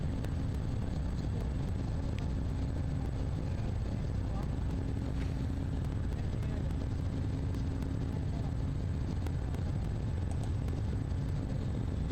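A passenger airliner takes off and climbs out from Toronto, a steady loud broadband engine roar filling the cabin continuously with faint speech underneath.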